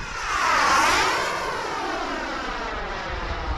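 An AeroFoam L-39 model jet at half throttle passes steadily overhead, its whine rising to a peak then sweeping down in a Doppler fade as it cruises away.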